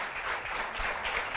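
A studio audience applauding a guest ophthalmologist on a morning talk show: dense, steady clapping from many hands, a continuous wash of sound with no single claps standing out and no talking.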